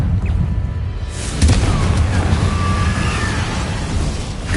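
A Confringo fire spell explodes in the Hogwarts Legacy video game, a loud blast that lands with a deep booming burst and crackling debris, then rumbling combat noise carries on underneath.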